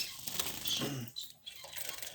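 Bengalese finch chicks bathing in a water dish, giving a few quick bursts of wing flapping and light splashing close by, with faint patter between the bursts and no talk.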